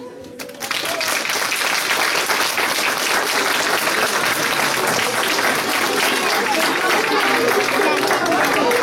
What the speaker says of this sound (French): Et le comité des fêtes va vous applaudir.